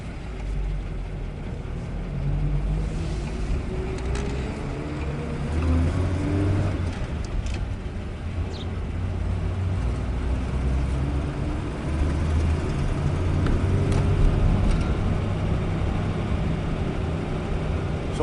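Cars passing one after another on a road, engine and tire noise swelling and fading in overlapping waves at moderate distance.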